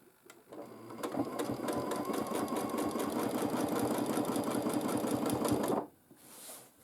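Sewing machine quilting a baby quilt, a fast even needle chatter that starts after a brief pause, runs steadily and close for about five seconds, then stops abruptly.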